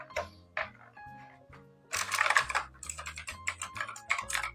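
Rapid clicky keystrokes on a mechanical keyboard with blue switches, starting with scattered taps and building into a dense, fast burst of typing, close and clear.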